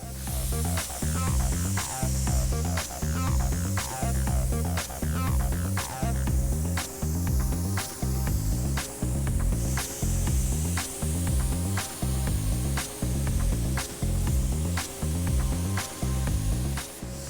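Continuous hissing spray of a paint spray gun coating metal parts of a Chevy race truck, over a loud, rhythmic mechanical thumping from nearby equipment, running steadily without pause.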